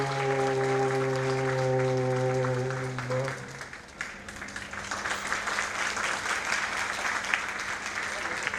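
An audience applauds an album launch at a Ram Navami festival gathering in Surat, with broad, sustained clapping rising after a held tone fades out.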